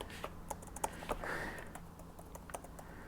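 Typing on a OnePlus Pad keyboard folio case attached to the Android tablet: a quiet, close run of scattered key clicks with irregular rhythm, alone with no voices.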